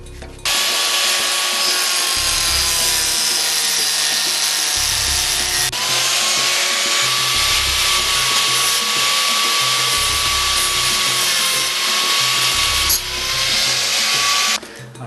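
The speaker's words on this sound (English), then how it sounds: "cut 4 tapering slots in the thread so it will act as a tap" Continuous high whine of a rotary cutting tool grinding tapering slots into a steel threaded rod, steady and loud, with a few brief changes in pitch along the way.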